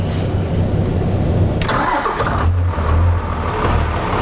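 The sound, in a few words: Dodge Cummins 5.9L diesel engine starting and idling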